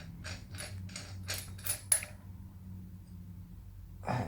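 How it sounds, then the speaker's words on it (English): A wheel nut spun onto an ATV 70 wheel by hand gives a quick run of about six short metallic ratcheting bursts, then near silence and a soft clunk at the end. "you're going to need to chuck the nut on and tighten it up"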